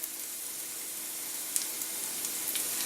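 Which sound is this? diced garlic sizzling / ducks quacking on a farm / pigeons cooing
diced garlic sizzling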